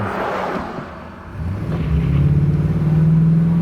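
An old Chevy pickup's engine rumbles low, dips briefly, then climbs into a steady, rising drone as the truck accelerates, with road noise underneath.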